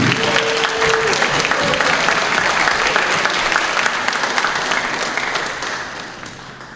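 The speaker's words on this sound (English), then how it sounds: "We have a round of applause for this award." Audience applause at a campus student awards ceremony, a dense, steady clapping from a large crowd that holds for several seconds and then gradually fades toward the end.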